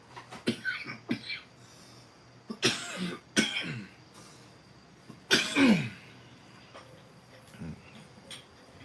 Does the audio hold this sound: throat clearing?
yes